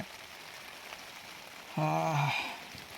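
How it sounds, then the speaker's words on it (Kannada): Steady, faint rain falls outside at a solo campsite, a soft, even wash, with a brief voice-like sound partway through. "ಹೊರಗಡೆ ಇನ್ನೂ ಮಳೆ ಬರ್ತಾನೇ ಇದೆ"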